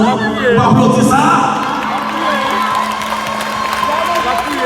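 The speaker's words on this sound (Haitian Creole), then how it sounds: "applaudissez maman, vous applaudissez ça" An audience cheers and whoops at a live foundation event with children present. Loud crowd noise and voices carry over scattered clapping throughout.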